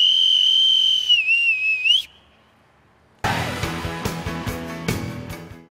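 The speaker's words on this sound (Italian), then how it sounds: "E ora la preghiera del marinaio col caratteristico fischio." A loud, near boatswain's-style whistle for the sailor's prayer holds a long high tone, warbles and then stops. After a short silence, dense music with sharp percussive hits begins.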